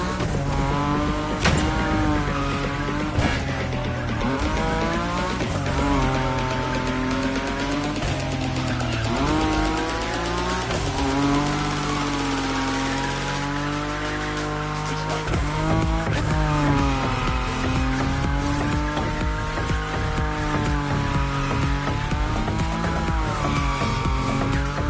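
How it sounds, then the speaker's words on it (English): A Nissan Nismo in a racing video game slides at high speed, its engine roaring loud and close throughout while the tires squeal in long, wavering skids that rise and fall in pitch. "Your Nismo is powerful enough to slide along on its own when you're at high speed"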